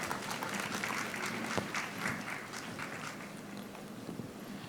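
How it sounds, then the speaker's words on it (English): An audience at an evening tribute event applauds the Lagos City Choral, a fairly distant, continuous patter of many hands that holds steady and tapers gently. "a round of applause for the Lagos City Choral"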